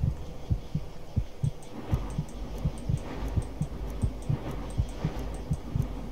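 Low-health heartbeat in Skyrim, a steady deep double thump repeating about every half second under a faint hum, close and prominent with no talking.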